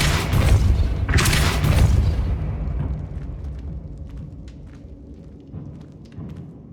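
A spell in Hogwarts Legacy, played on PC, fires off with a deep booming blast that fades into a rumbling tail, followed by lighter scattered clicks and a second softer thud.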